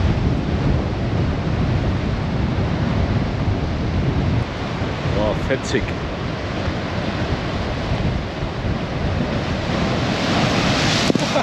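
Loud, continuous roar of surf breaking close by on the Gran Canaria coast, with heavy wind buffeting the microphone; a voice briefly exclaims partway through.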